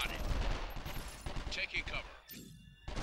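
Bursts of gunfire ring out in a police simulator video game, close and sharp amid game noise and a voice, ending in a brief quiet gap.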